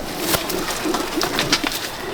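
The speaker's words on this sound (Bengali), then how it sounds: "এই যে কালাঙ্কা পায়রা" Pigeons in a loft give soft, low cooing calls, with a few short coos and light rustling close by and no talk.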